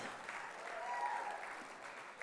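Gala audience at a 2020 inaugural celebration breaking into steady applause, a soft, distant patter of many hands clapping for the whole span.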